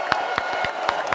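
Audience applause for a guest at a real estate talk, a short burst of crowd clapping with a few sharp individual claps standing out.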